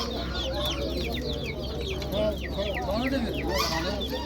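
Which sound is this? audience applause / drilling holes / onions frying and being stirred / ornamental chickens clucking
ornamental chickens clucking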